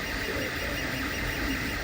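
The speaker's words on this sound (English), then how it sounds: "These 3D printers are working full-time to make masks for healthcare workers." 3D printers working full-time making masks, a steady, dense mechanical whir with high-pitched motor whine running continuously and loud, with no voices.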